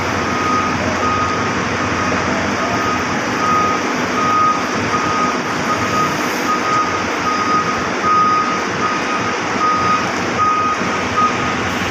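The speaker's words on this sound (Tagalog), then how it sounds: "Yan, truck bulk, kakarga ng simento," A bulk cement truck unloads at a loading site, a steady loud mechanical rumble and hiss running continuously, with a repeating reversing beep pulsing throughout.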